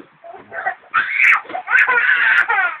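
A young child wails and sobs close by, rising into long strained cries broken by short gasping breaths.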